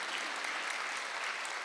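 A congregation claps together during a Sunday church service, producing a dense, even wash of applause that holds steady and fills the room.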